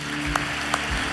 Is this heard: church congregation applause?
yes